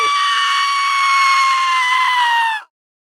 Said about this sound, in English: No, it's a goat and it screams.